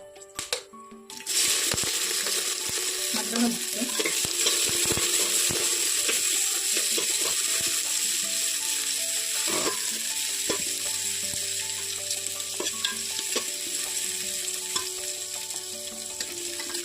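Vegetables and green chillies sizzle and fry steadily in a hot pan of spiced oil with bay leaves, peppercorns, cloves and cardamom, a loud continuous crackle with occasional stirring clatter, no voices.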